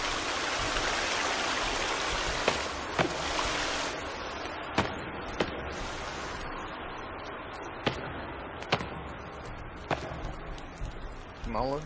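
Steady rushing water in the survival video game The Forest, a broad continuous wash that runs throughout with sharp clicks and knocks cutting through, and people talking over it.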